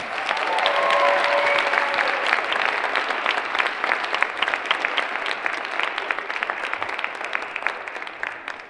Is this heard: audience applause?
yes